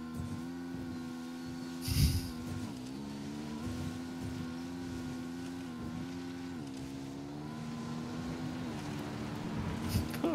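V8 car engine in Ghost Recon Wildlands revving steadily with a sustained droning tone that rises and falls, a couple of brief sharp bursts near the start and end, loud and continuous.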